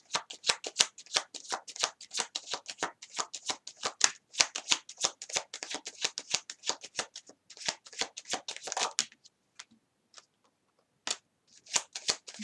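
Tarot cards being shuffled close up, a rapid flurry of crisp riffling slaps and flicks that runs for several seconds, pauses briefly, then resumes in a few short bursts, with no talking.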